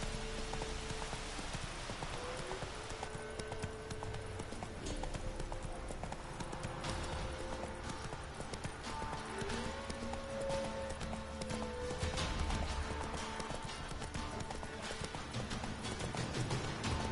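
Hoofbeats of Roach, a horse in The Witcher 3: Wild Hunt, clip-clop in a steady galloping rhythm throughout, loud and close over a continuous game ambience with some tonal music underneath.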